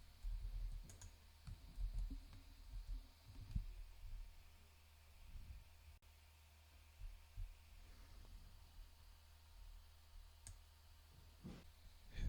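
Faint clicks of keys as a command is typed on a computer keyboard, scattered and irregular over a low, steady hum.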